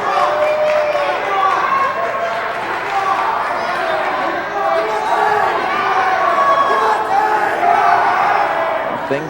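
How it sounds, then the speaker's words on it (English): A crowd in the Gloucester Catholic gym roars and shouts without letup during a 2007 Pitman vs Gloucester Catholic girls basketball game, loud and dense, with voices mixed throughout. "Crowd always involved."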